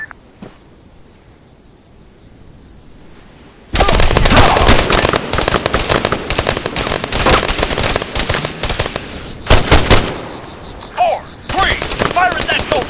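After a quiet start, sudden loud gunfire erupts in ARMA III, with rapid rifle and machine-gun bursts and sharp cracks rattling close by in an ongoing firefight.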